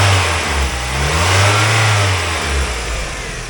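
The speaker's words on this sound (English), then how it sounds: "Has a good running motor. Some miles on it, but it runs nice." A 2005 Mazda Miata engine, a high-mileage motor from a wrecking yard, runs steadily at a close, loud idle, its low rumble lifting slightly mid-way.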